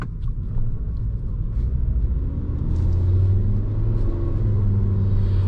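2010 Volkswagen Jetta SEL engine droning steadily while driving, a low constant rumble with a mild rise in pitch as it pulls through its power band, heard from inside the car.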